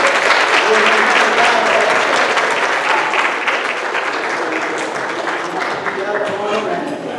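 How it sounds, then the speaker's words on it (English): A church congregation claps for the children during a service, with loud, sustained applause filling the room for several seconds and a few voices rising over it. "Let's give God a hand clap for the children."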